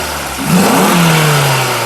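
A 2022/23 Maruti Suzuki Baleno Zeta car engine loudly revs up, its droning tone rising in pitch and holding steady, close by, with no talking.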